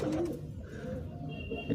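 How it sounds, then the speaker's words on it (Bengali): Soft pigeon coos from a rooftop pigeon house with a cement sheet roof, a couple of low throaty calls close by against quiet background noise. "এই যে দেখতেছেন আমার কবুতরগুলো"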